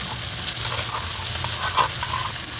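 Onion, tomato and ground meat sautéing in a pan for ginisang ampalaya, giving a continuous close sizzle and frying crackle with light stirring, no voices.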